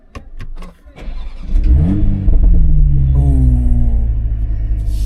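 A Toyota GR Supra with a six-speed manual gearbox fires up after a few clicks, its engine catching with a loud blip and rising rev before settling into a deep, steady idle close by.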